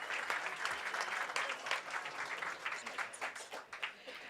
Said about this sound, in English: let's get everybody a round of applause.